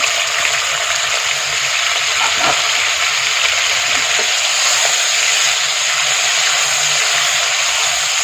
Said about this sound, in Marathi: तेल तापलेलं आहे, तेलामध्ये थोडंसं मीठ टाकलेलं आहे आणि आपले हे पनीर तळून घ्यायचं आहे